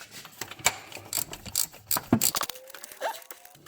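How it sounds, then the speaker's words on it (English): Ratchet fitted with a cheater bar cranks loose an 18 mm bolt on a Nissan Sentra starter, giving a run of close, sharp mechanical clicks and knocks. Near the end a creaking metallic squeal sounds as the bolt breaks free. "Let's go ahead and get the cheater bar on."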